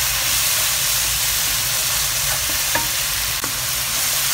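Sambal mixture with gula melaka brown sugar bubbling and being stirred in a hot pan, a loud, steady, close sizzle and hiss with a few faint scrapes and no speech.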